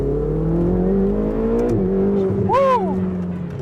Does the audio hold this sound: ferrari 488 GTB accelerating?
yes